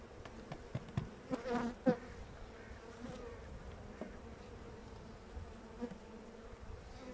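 Honey bees buzz around an open hive during an inspection, a soft steady drone with a few closer passing buzzes and light handling knocks, quiet throughout.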